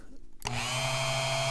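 A Dremel rotary tool switches on and spins up into a steady, close high-pitched whine with a buzzing hum underneath.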